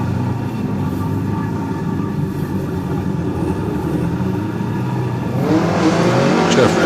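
A Subaru WRX race car at a hillclimb finish line holds a steady, droning engine note that swells louder and rises toward the end.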